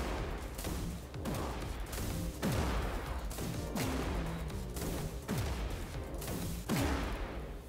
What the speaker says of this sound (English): Two or three more shots here.